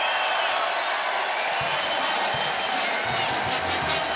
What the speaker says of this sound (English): their crowd is giving them a lot of appreciation right here